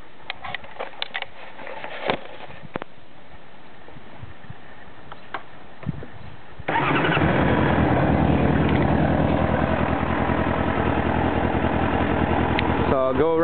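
A 1995 Suzuki RF600R sport motorcycle sits quietly with a few clicks and taps until its engine fires up about halfway through, then settles into a loud, steady idle close by.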